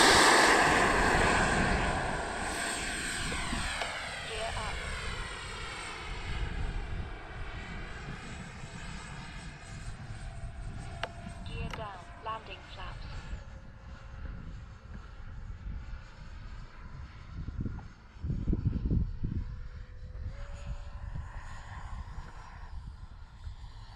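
An Arrows RC MiG-29 model jet roars at takeoff, a loud, steady electric ducted-fan whine that rises in pitch and then holds near, with wind rushing over the microphone.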